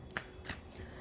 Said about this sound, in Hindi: इसके लिए एक और कार्ड ले लेती हूँ